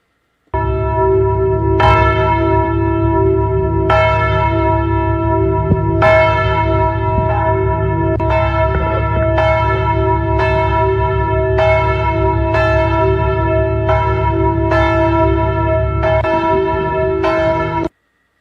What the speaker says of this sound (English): church bells are an indication of time